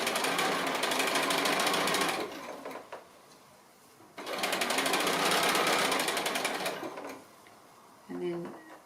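A sewing machine stitches folded face mask fabric at a quilting table in two long, loud, steady runs. A brief quiet gap separates the runs, and a short final burst comes at the end.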